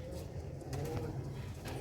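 A pair of pigeons, a female and a male, coo softly at close range, with low rolling calls repeating under faint background noise.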